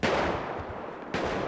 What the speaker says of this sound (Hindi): भाई पक्का गोलियां चल रही है कहीं तो।